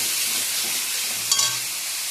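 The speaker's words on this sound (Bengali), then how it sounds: "এবার ভালো করে ভাজবো যতক্ষণ না মশলা থেকে তেল ছেড়ে দিচ্ছে" Steady close sizzle of onion, tomato, ginger, garlic and chili paste frying in oil with turmeric and Kashmiri chili powder, broken by one brief scrape of a utensil.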